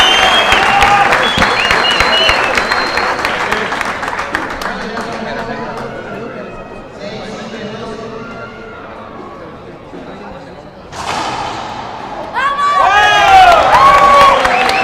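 A capacity crowd at a 2014 Pan Am Racquetball Championships men's doubles semifinal, Mexico against Bolivia, cheers and claps in an indoor arena. Shouts and whistles rise and fall, fade, then swell again near the end, with commentators talking over the crowd.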